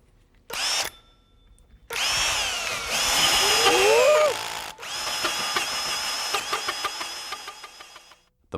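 A Panasonic two-battery professional cordless drill runs in loud bursts, whining up and down in pitch with gaps between triggers and a steadier buzzing stretch at the end.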